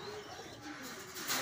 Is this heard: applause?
no